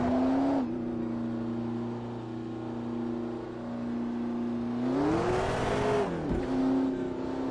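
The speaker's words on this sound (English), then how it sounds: "when you get into a Viper and you fire it up, you know, a V10 sound" A Dodge Viper V10 in Automobilista 2 holds a steady droning idle, then revs up sharply around the five-second mark, climbs and drops before settling back, loud and close with no talk.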